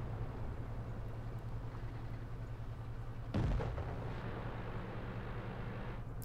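A single muffled tank-gun impact thuds against armor in the World of Tanks video game, heard once midway over a steady low engine drone; no talking.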